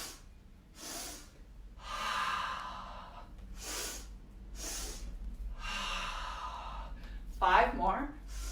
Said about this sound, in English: 1 Hara breath, let's go.